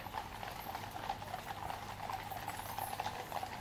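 A household cavalry procession with the state trumpeter on a grey horse, hooves clip-clopping on the roadway in a steady, faint, fairly distant rhythm with no talk over it.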